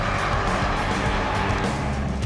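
A 2016 Ford Mustang EcoBoost with a four-cylinder engine driving past at speed, making a loud, continuous engine drone with some tire noise and no talking.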